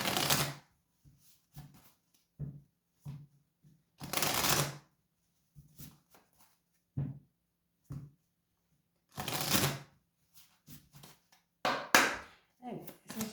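Oracle cards for a love tarot reading are shuffled in bursts of crisp riffling and soft card slaps, close and fairly quiet, with short pauses between shuffles.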